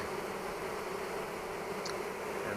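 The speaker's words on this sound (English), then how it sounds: "These are the bees that were on the inner cover." Honey bees swarming into a poly hive, a dense steady buzzing hum close by that continues without a break, with no voices.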